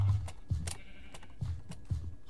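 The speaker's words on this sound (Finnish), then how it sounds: "Lammas työntää niinku kyläläistä, aika random tapaus." Sheep in the video game Minecraft bleat in a series of four or five short nasal calls at roughly regular intervals, fairly close and clear with no talking.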